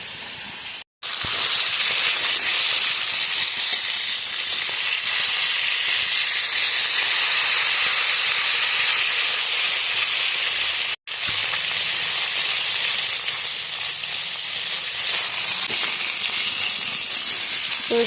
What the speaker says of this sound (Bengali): তো সব মাছের মাথাগুলো ভাজা হয়ে গেছে